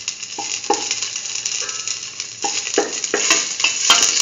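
Raisins frying and puffing in a hot pan of coconut milk vermicelli, sizzling steadily while a utensil stirs and scrapes through them in several distinct strokes, close and fairly loud, with no talking.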